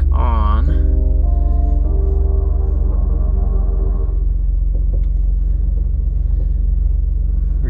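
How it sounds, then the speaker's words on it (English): A 2009 Nissan Murano engine idles on a trailer, a loud, steady low rumble holding constant throughout, with a short vocal sound at the very start. "I'm gonna let it idle down before I try taking it off."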